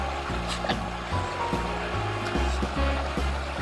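A wild river stream flows in a steady, close rushing wash of water, with occasional knocks and low tones through the short stretch.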